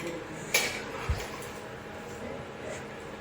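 Spoon and kitchen utensils handled in a home kitchen, giving two brief close clinks and taps over a quiet room background.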